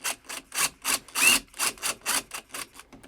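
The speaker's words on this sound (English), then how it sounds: "I'm going to take my long bolt, and we're going to screw these together." A long bolt is hand-screwed through a locking door lever, giving about a dozen rhythmic, close rasping turns, each a short scratchy burst with brief pauses between, and no voices.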